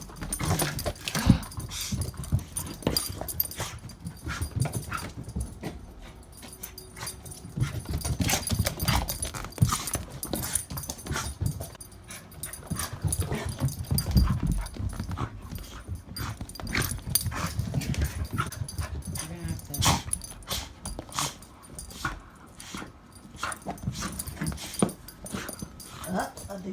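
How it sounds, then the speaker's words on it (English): A dog plays roughly with an inflatable soccer ball toy, with continuous scuffling, thumping and chewing noises along with occasional whimpers and panting, close by and without talk. "we're going to see if my doggy likes to play with it"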